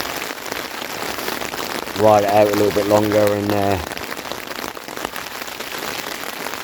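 Steady rain pattering on a tent during a wild camp at Feather Tor on Dartmoor: a constant close hiss of drops on fabric running throughout, with someone talking over it partway through.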